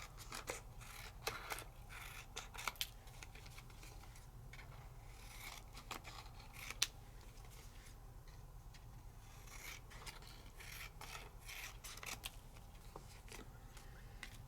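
Scissors snip and rasp through excess material in an art studio, a quiet series of scattered crisp cuts and rubbing scrapes over a low steady hum.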